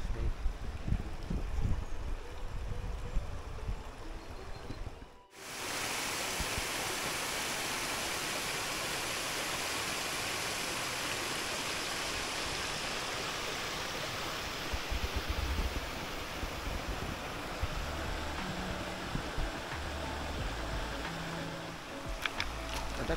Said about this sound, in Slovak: Takto vyzerá horský potôčik zblízky.